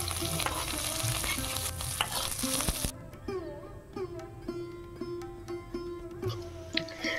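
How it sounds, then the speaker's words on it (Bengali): Chopped garlic and onion fry in oil in a pan, a dense close sizzle that thins out partway through, with a faint tonal hum and occasional clinks of stirring. "এটাতে 2 চামচ রসুন কুচি আর যে পেঁয়াজ কুচিটা ছিল বেঁচে সেটাকে দিয়ে অল্প একটু ভেজে নেব"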